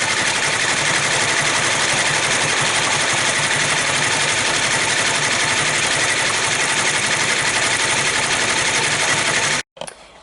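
Multi-needle ten-needle embroidery machine stitching out an appliqué, a rapid, steady mechanical chatter running continuously and close, then stopping abruptly near the end.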